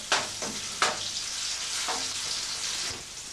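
Onions sizzle steadily in a frying pan, with a few sharp scraping knocks as they are stirred, close and continuous with no voices.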